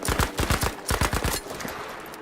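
Bursts of rapid gunfire in Battlefield 5, several quick volleys of sharp shots close by, fading to quieter background noise near the end.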